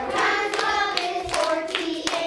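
Children clapping their hands in time during a times-tables lesson in a school classroom, a few sharp claps standing out over a steady, busy background of voices and movement.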